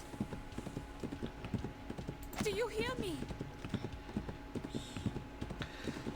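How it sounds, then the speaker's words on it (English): A horse gallops onward in the video game Reverse: 1999, its hooves clip-clopping in a quick, steady rhythm at close range while a voice speaks over it briefly. "The horse runs onward still, even striding several shallow depressions with ease before continuing forward."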